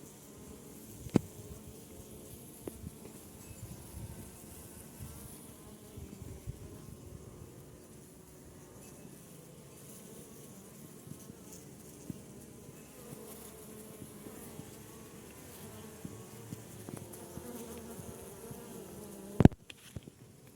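Honey bees at a poisoned hive, buzzing as a steady, dense hum that lasts throughout at moderate level, with a few faint knocks and no talking.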